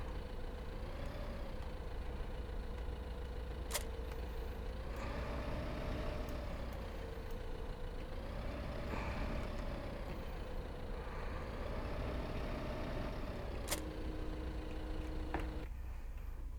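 Small tractor engine in Farming Simulator 2015 runs steadily for the whole stretch, a low continuous drone whose pitch rises and falls gently as the throttle changes, with a short higher tone near the end.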